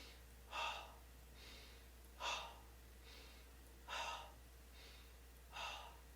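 Forceful yogic exhalations during a breathing practice, four sharp breathy bursts evenly spaced about every second and a half, each followed by a softer inhale, close and quiet with no talking.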